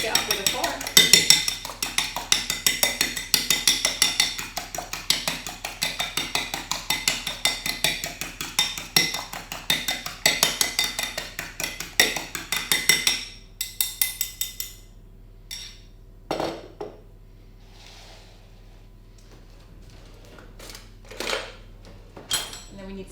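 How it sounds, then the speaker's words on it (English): Fork whisking an egg in a bowl, rapid rhythmic clinking and tapping that runs for about thirteen seconds, then stops, leaving a few scattered knocks and handling sounds. The speaker talks over it. "And then just whisk it up with a fork."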